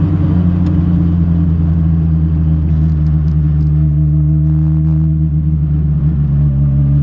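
Renault 5 Turbo 2 engine running, a loud, steady low rumble with strong harmonics heard from inside the car, holding constant throughout.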